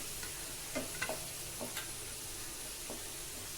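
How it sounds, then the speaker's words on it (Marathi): Garam masala and kitchen king masala roasting in hot oil for a Maharashtrian matki amti, a faint continuous sizzle with a few soft clicks of stirring. "अजून पाच ते सात मिनिट आपण याला छान भाजून घेणार आहोत"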